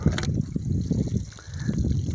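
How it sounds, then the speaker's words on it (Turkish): Water runs and trickles from a village fountain with leaking troughs, making a steady, close splashing and burbling with a few brighter spatters, and no talking. "Ve şu yukarıdan beri su boş akıp gidiyor."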